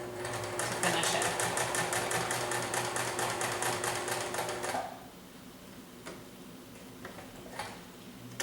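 A sewing machine stitches a cotton mask in one loud, rapid, rhythmic run that stops abruptly partway through, followed by quiet fabric handling and a few light clicks.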